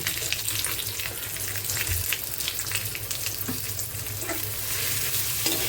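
Chopped onion cooking in oil for a mussel masala, a dense continuous sizzle heard up close with light stirring and occasional clinks, and no voices.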